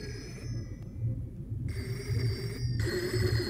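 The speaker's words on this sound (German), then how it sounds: "glaube, das soll ein Telefon sein, oder?" A telephone rings in the horror video game Reveil, a bright electronic tone that sounds in on-off bursts over a low, murky game ambience.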